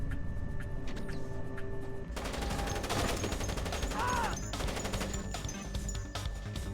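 Automated turrets in Splinter Cell fire in long sustained bursts, a dense continuous rattle of rapid shots that swells louder partway through, with a brief rising tone in the middle.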